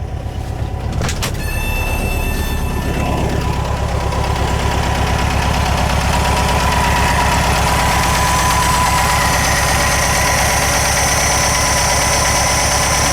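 A 1974 VW Super Beetle engine idles steadily up close, a low even rumble with a faint high whine, after a brief click at the start.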